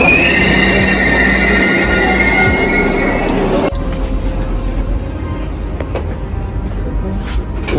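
A Vande Bharat train running on rails, loud and close, with high metallic wheel squeal for the first few seconds, then a lower steady rumble and clatter of the moving carriages.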